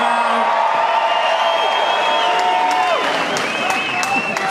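A large crowd at a Donald Trump presidential campaign rally at the Mabee Center in Tulsa, Oklahoma applauds and cheers loudly and continuously, with whoops and shouts rising over dense clapping throughout.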